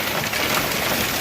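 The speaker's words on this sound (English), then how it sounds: "as I was painting, it started hailing outside" Hail falling outside during a storm, a dense, steady hiss of pelting ice with no gaps and no voices, fairly loud throughout.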